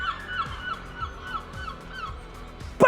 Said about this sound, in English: Why are there so many seagulls?